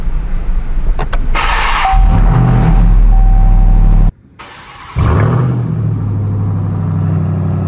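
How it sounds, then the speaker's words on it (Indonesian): RAM TRX 1500 Havoc Edition engine cranks and starts with a loud rumble, then idles heavily; after a brief cut it returns with a steady, strong idle. No one speaks. "Oke, kita start."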